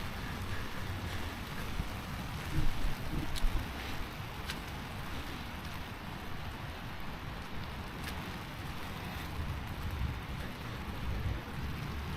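Steady rain falls across the Ambassador Mansions and Gardens in Pasadena, California, a continuous even patter on the surfaces nearby, with a few louder gusts of splashing early on and no voices.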